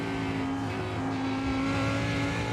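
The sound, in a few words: race car engine at full throttle, from iRacing video game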